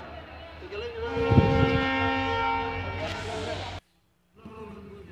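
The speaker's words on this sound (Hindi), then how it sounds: "ट्रेन के लिए आवाज़ सुनाई दे रही और अभी बिलोनिया जाने के लिए तैयार हो गए।" A train at Santirbazar rail station in South Tripura at night sounds a long, loud horn over a rumbling engine. The horn cuts off, there is a brief silence, and then the low rumble returns.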